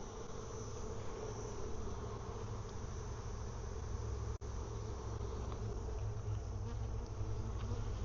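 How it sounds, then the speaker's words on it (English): A dense, continuous buzzing drone of many honey bees, steady and enveloping, with a single brief click partway through, while honey is being pulled. "It's incredible how much air those bees move."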